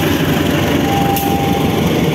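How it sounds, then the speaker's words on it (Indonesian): A CC203 diesel locomotive shunts Malioboro Express coaches, giving a steady close rumble with faint metallic squeal and no speech. "Rangsiran rangkaian kereta api dengan lokomotif"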